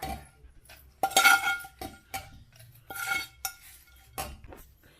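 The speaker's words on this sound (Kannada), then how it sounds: "ಈಗ ಜಾರಿಗೆ ಹಾಕ್ಕೊತಾ ಇದ್ದೀನಿ ನಾನು ಇದನ್ನ ಎಲ್ಲದನ್ನೂ" Cooled roasted red chillies being tipped into a steel mixer jar for red chilli chutney, with a few clinks and rattles of metal on metal, close by and in short bursts, with no talk.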